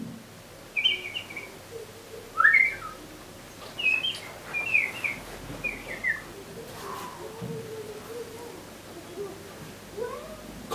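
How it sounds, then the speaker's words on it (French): Bright bird chirps and short songs ring out in scattered bursts over a soft outdoor background, with occasional low murmurs. "T'entends les oiseaux?"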